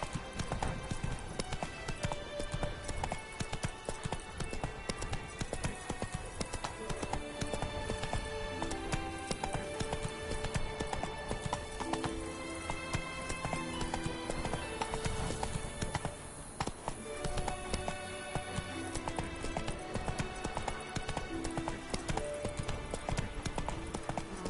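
Roach, Geralt's horse in the video game Witcher 3: Wild Hunt, galloping with rapid rhythmic clip-clop hoofbeats over a continuous layer of game music and ambience, with no talking.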